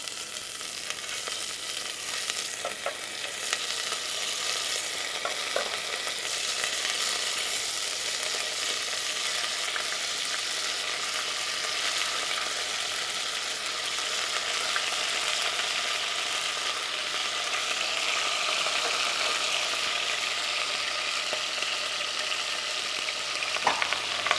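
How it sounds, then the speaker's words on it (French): Pieces of meat sear in hot, lightly smoking fat, giving a dense continuous sizzle that holds steady and close for the whole stretch, with a few faint clicks and no talk. "Ma matière grasse commence légèrement à fumer, elle est bien chaude. Je vais disposer mes morceaux, un à un"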